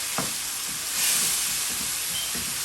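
Spices sizzling and frying in a pan with a small splash of water, for an aloo methi sabzi, a steady close hiss with faint clinks of stirring and a brief louder surge of steam.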